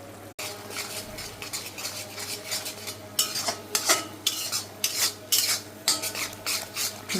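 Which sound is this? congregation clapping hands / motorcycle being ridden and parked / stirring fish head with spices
stirring fish head with spices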